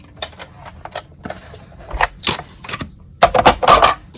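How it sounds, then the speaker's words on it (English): A Big Shot die-cutting machine running paper shapes through its rollers, giving a series of clicks, clunks and grinding pushes at close range with no talk. "So I'm going to get the big shot and we'll cut these out."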